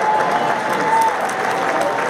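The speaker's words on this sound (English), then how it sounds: "can we give a round of applause to Chairwoman People Stokes for her leadership?" Steady applause from an audience fills the whole stretch, a dense even patter of clapping with a faint crowd murmur beneath it.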